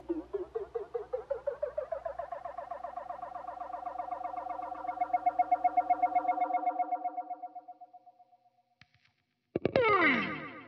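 A UAFX Starlight delay pedal in tape delay mode plays a guitar line, its repeats stacking into a wobbling, echoing wash that swells and then fades out, followed by a brief burst of effect noise.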